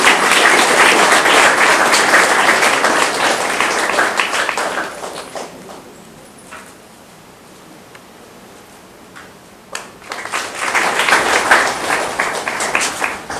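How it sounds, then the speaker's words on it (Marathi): An audience claps at a high school event in Goa: dense, loud applause that thins out to a lull, then swells again into a fresh burst of clapping. "प्रेक्षकांनी आणि पालकांनी टाळ्या वाजवण्यासाठी कंजूसी करू नये"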